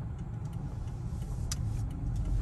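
A car engine runs during a driving lesson on California residential streets, with the throttle pressed and released. A steady, fairly quiet low hum is heard with light ticks, and no clear surges stand out.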